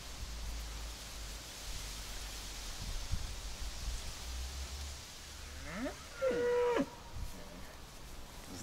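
A cow in a German village pasture gives one clear moo partway through, somewhat distant, over steady wind-like noise and low rumble.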